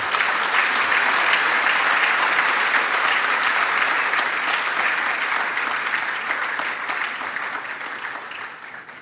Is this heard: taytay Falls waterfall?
no